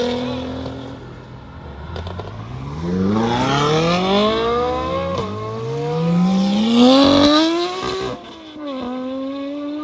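A car leaving a small car meet revs hard and accelerates away, its engine note climbing through two clear gear pulls, loud and close, before easing off at the end.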